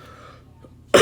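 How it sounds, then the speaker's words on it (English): One sharp, loud cough bursts out near the end after a quiet stretch, close to the microphone in a classroom lecture setting. "I've had a little bit of a cough"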